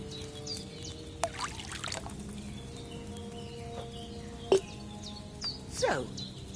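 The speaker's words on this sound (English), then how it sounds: "So, what did you pour in there? Wine, of course." Wine poured into a cauldron in a video game, heard as a soft trickling pour under chirpy ambient game sounds and a few light clinks.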